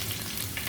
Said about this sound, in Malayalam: വെളിച്ചെണ്ണയിൽ വെളുത്തുള്ളി ഇട്ടും നല്ല മണമാണ്